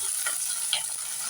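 Green chillies and onion hit a hot pan while bitter gourd fry is prepared, giving a soft, continuous sizzle with a brief scraping stir near the middle.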